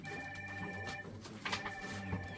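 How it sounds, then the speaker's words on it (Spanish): A home landline telephone rings at a steady pitch, faint and somewhat distant. It sounds out over quiet household background noise with no one speaking. "y ese teléfono de casa, qué puchita"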